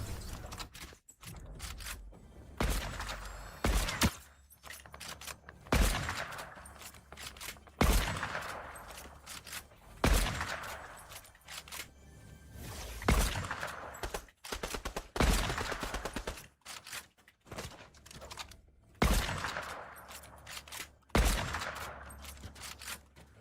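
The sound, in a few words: gunfire from a video game shooter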